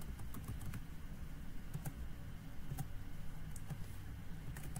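Typing on a computer keyboard while writing the body of an email, steady irregular key clicks close by over a low background hum, with no voices.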